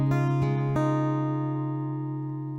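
Acoustic guitar playing the C part of a song: a few quick picked notes, then a chord that rings out and slowly fades, played alone.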